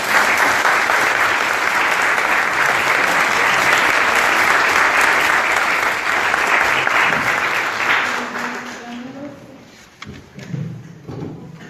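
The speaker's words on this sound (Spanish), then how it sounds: "Por favor, les damos un cálido aplauso." An audience at a university book presentation in Puebla claps, loud and sustained for several seconds, then thins out and fades to scattered claps.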